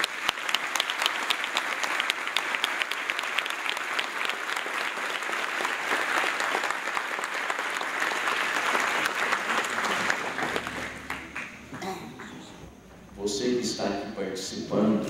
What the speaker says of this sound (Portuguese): Agora nós podemos dar uma salva de palmas.